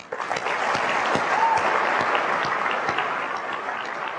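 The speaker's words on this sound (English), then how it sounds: "I would just like to give them a round of applause" An audience at the 2002 Macworld San Francisco keynote breaks into sustained applause, a steady, full roar of clapping that starts abruptly and holds before tapering slightly.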